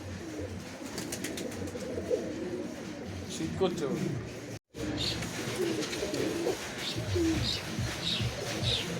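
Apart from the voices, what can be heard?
Pakistani beat kamagar pigeons cooing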